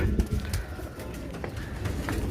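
Pigeons coo in low, repeated throaty bursts close by, with a busy backdrop of shuffling and other bird sounds and no talking.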